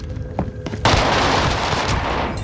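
Gunfire in Call of Duty Warzone, a few light shots followed by a sudden loud, dense barrage of rapid automatic fire with booming impacts, close and sustained.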